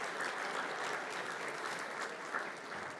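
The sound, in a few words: luncheon audience applause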